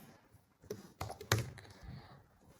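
Typing on a computer keyboard, a short burst of close, irregular key taps with one louder thunk midway, quiet between strokes and no speech.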